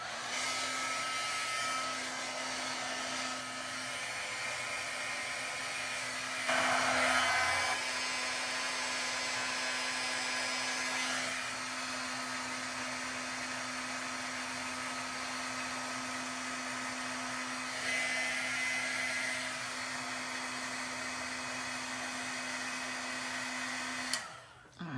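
Heat gun for embossing warming up, a steady loud blowing whir with a constant hum, running alone with small shifts in pitch.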